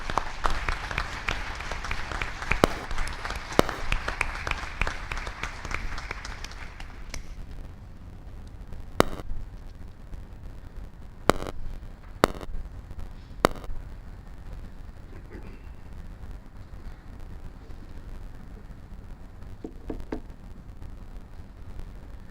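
An audience at an education board meeting applauds award winners. Full clapping runs for about seven seconds, then dies away into a quiet room broken by a few sharp knocks and thumps.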